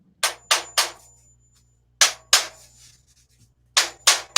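Crisp, ringing hammer taps on metal at a horseshoeing job, struck in quick groups of two or three with short silent gaps between, close and loud.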